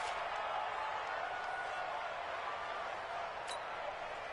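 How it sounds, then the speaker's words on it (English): A dense, steady crowd roar from a video game football stadium fills the whole stretch, loud and continuous like a packed stadium, with no clear voices on top. "Listen to this crowd now."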